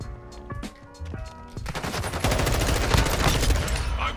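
Rapid bursts of automatic gunfire and explosions from the Call of Duty MWII video game, building from scattered shots into a dense, loud, continuous barrage with no talking.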